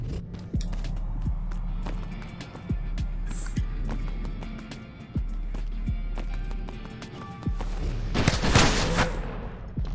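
Gunfire in the VR parkour arcade game Stride, a string of sharp, separate shots spread irregularly over a running game soundscape with footsteps, then a dense, louder burst of noise near the end.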